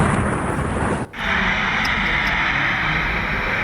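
Air India plane crash in Ahmedabad: a loud, sustained roar of explosive rumble fills the scene, briefly cut off near the start before the heavy noise resumes and continues.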